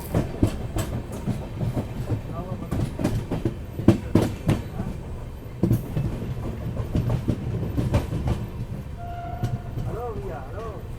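The Gorakhdham Express, a passenger train, runs on with steady clickety-clack from the wheels and carriage rattles heard from inside, near and continuous, with a voice talking partway through.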